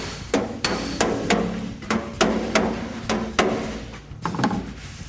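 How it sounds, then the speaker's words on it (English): Sharp metallic hammer strikes on a car body panel backed by a dolly, about a dozen ringing blows in uneven bursts, close and loud with brief decays between hits. "Using a hammer and dolly allows you to shape the metal into its original contour."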